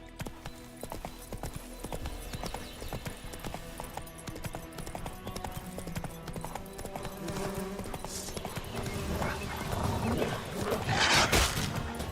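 Roach the horse's hooves clip-clopping in The Witcher 3 on PC, a steady rhythmic trot heard close over game ambience, with a brief whinny-like sound near the end.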